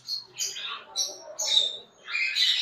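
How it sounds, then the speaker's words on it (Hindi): Two female ringneck parakeets kept as breeders give a series of sharp, raspy squawks and chirps in short bursts, close and moderately loud, with faint talk in the background. "उसके बाद हमारे पास 2 रिंग नेक की ब्रीडर फीमेल पड़ी हुई है।"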